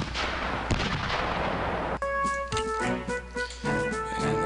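Cannon artillery fire in the Civil War Generals 2 strategy game, a dense booming barrage that cuts off abruptly midway, followed by lighter thuds and a ringing tonal game sound.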